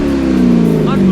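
A Corvette Z06 fitted with a Corsa exhaust accelerates with a deep, rising engine drone that stays loud and close, while people talk over it throughout.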